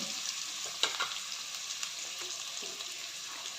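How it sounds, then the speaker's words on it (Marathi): Finely chopped onion and tomato frying together in a pan with cumin seeds and salt, a steady soft sizzle with occasional spoon scrapes and stirring clatter, close and alone. "म्हणजे कांदा आणि टोमॅटो लवकर भाजले जातील"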